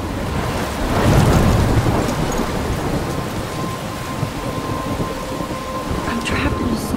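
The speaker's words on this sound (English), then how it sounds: "I'm trapped in a storm?" Thunderstorm with heavy rain in Life Is Strange, steady dense rainfall with a loud rolling thunder swell near the start that fades into continuous downpour, a few sharper splashes toward the end.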